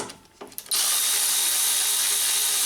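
A 10mm socket works a radiator bracket bolt on a 2003-2007 Honda Accord: a few soft clicks, then a loud, close, continuous mechanical whir that runs to the end.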